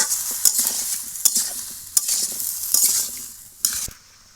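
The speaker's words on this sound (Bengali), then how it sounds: "ভালো করে নেড়ে চেড়ে লাউটা একটু ভাজা ভাজা করে নেব।" Bottle gourd fries in a pan with turmeric and salt while a utensil stirs it, giving soft sizzling under a series of sharp scraping strokes that come at uneven intervals, close and fairly clear.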